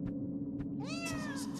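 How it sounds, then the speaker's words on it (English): A cat meows once in the video game Claire, a clear rising-and-falling call over a low droning game ambience with a couple of soft ticks before it. "I like the, like, cat noise."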